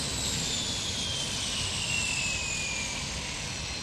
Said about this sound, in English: you can hear the engines being switched off and winding down as the passengers get ready to disembark from the aircraft